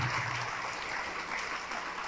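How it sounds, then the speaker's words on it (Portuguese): A church congregation applauding during a service, dense sustained clapping from many hands filling the room, with a faint voice at the start. "Vamos aplaudir ao nome de Jesus."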